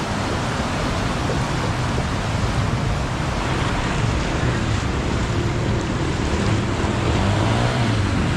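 Floodwater on a deeply submerged Saigon street splashes and washes in a loud, continuous surge as motorbikes wade through, a steady rushing churn with no pause throughout.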